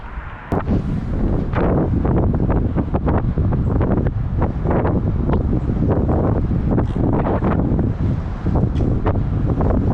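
Heavy wind buffeting the microphone during a fast descent on a Ribble Endurance SL Disc road bike, a loud, constant roaring rumble with gusty fluctuations that drowns out everything else.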